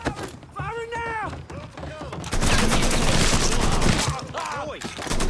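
Gunfire in the Mafia 3 video game: bursts of automatic fire rattle loudly and continuously through the middle of the passage, with voices calling out before and after.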